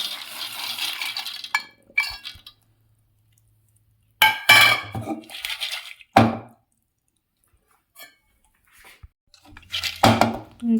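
Soaked green gram tipped into a pressure cooker makes bursts of clattering, rattling grain against metal, separated by silences, including one long scraping pour.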